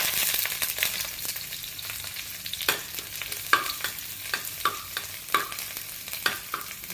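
Curry leaves fry in hot oil with a continuous soft sizzle, while a spoon scrapes and stirs the pan in repeated sharp knocks and scrapes, close up with no talk.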